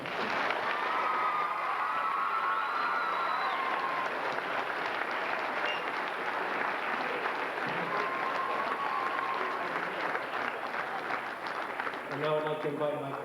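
Crowd at a school D.A.R.E. graduation ceremony clapping steadily for a dozen seconds, sustained and even, with faint voices and a few tones over the applause and speech starting just as it ends.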